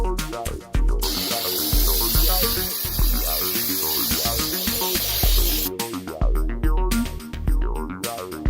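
Brake cleaner sprays from an aerosol can onto a Honda B16A valve cover, a sustained loud hiss lasting about five seconds amid background music.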